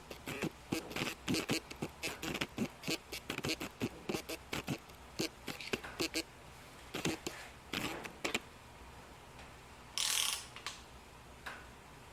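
Torque wrench clicking and ratcheting on a bolt during a 2018 Ford Focus long block engine build, a series of close, sharp mechanical clicks in bursts, with a brief louder hiss-like burst near the end.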